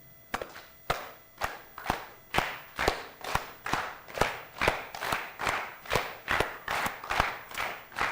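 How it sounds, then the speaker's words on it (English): A group in a theater claps and slaps a steady rhythm together, crisp evenly spaced hits at roughly two per second, each with a short ringing tail, loud and continuous without speech. "This half and this half together fill in every beat with a clap and a slap."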